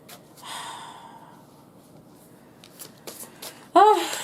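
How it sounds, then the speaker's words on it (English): Playing cards being shuffled in quick riffling, rustling bursts, ending with a short breathy vocal sound close by. "One more shuffle if I can get any tea."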